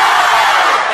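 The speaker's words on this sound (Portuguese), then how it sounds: "Essa torcida é do Chile?" A dense football crowd roars and chants in unison, a loud, continuous wash of many voices with no single speaker standing out.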